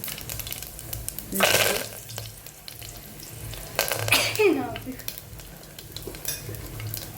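Cumin seeds drop into hot oil after mustard seeds, for a khichdi tempering, giving bursts of sizzling and crackling with stirring, loudest in two swells, over a steady background hum.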